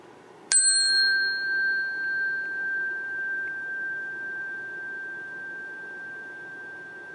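Struck once, a larger meditation chime rings out with a clear, pure metallic tone and a long resonant tail that decays gradually, heard alone against near silence.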